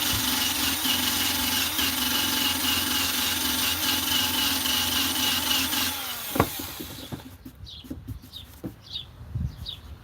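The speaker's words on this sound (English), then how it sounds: "I wonder if I can use the eraser wheel to get this off and not mess up the paint." A power tool fitted with an eraser wheel strips vinyl wrap off a painted surface, whining steadily and close for about six seconds before cutting out, leaving quiet birdsong and scattered light knocks.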